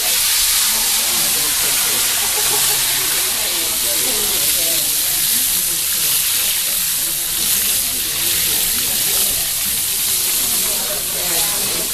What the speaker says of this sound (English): when you fry food, after a few seconds, and then you take it out and put it back again. Make it even more crispy.